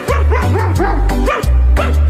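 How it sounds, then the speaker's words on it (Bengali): A dog barking in a Black Panther movie scene, a rapid series of loud, close barks and yips with a steady rhythm throughout. "আবে এ তো দেখি কুত্তা।"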